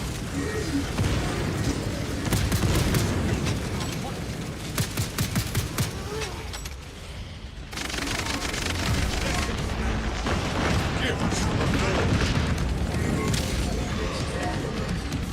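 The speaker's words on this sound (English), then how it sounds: "Releasing frag grenade!" Frag grenade blasts in a video game: booming explosions and rapid gunfire-like bursts over dense battle noise, with a brief lull midway before the loud din resumes; voices talk over the action.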